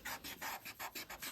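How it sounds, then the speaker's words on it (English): An eraser rubbing out a pencil line on paper, a quiet close raspy scrubbing in about seven quick back-and-forth strokes in a steady rhythm. "I'm going to rub out this line"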